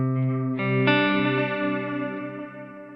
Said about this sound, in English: I have this delay feeding into a reverb, and it's got that nice warble to it.